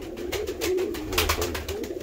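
Low, soft cooing of pigeons in an aviary repeats in a steady rhythm, fairly close, with a little fluttering and background noise.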